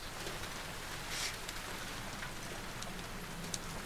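Steady rain pours in the video game The Last of Us Part 2, a dense, even hiss of falling drops with a few brighter spatters, no voices over it.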